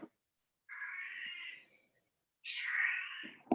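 A house cat meows twice in a quiet room, two drawn-out close calls separated by a short pause, with no one talking over them.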